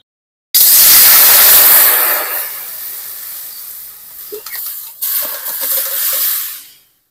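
Whole coriander and cumin seeds in a hot pan give a loud hissing sizzle that starts abruptly, fades over several seconds, then flares again briefly with a rustle of stirring before dying away.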